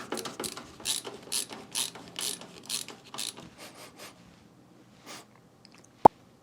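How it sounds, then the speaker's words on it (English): A ratcheting screwdriver clicks in quick, rhythmic bursts while driving screws into a PC case, the clicking fading toward the end before one sharp tap. "The more I use it, the more I'm liking the ratcheting."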